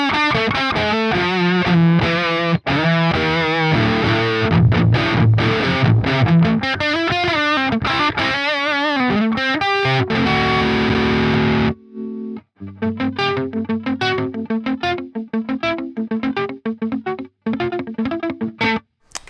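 Distorted electric guitar through the Neural DSP Fortin Cali amp plugin on a single-coil Brit preset plays a sustained chugging passage, cuts to a brief silence, then returns with sharp, staccato chords.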